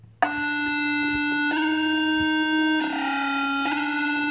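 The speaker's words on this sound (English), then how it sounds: "get that distortion up in there" A heavily distorted trap-style beat made in GarageBand on iOS, with a loud, buzzing, harmonically dense synth tone holding steady and shifting at a few points, played alone at full volume.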